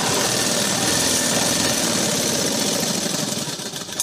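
A sewing machine runs steadily, stitching along the edge of a hook strip on a blouse. Its motor hum and rapid needle chatter stay loud and continuous for the whole stretch, easing off slightly near the end.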